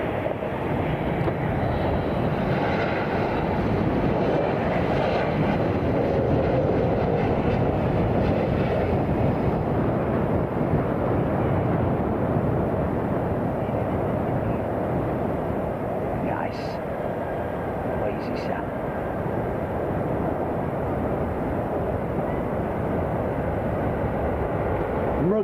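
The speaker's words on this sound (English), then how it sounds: "so that's going out of runway 8, that jet there." A jet departing runway 8 at Miami International Airport, heard as a steady, loud broadband engine roar that persists throughout, with voices talking over it.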